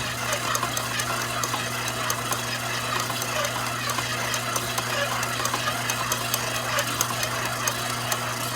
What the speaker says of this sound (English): Let the dough start to mix, and you'll see it come together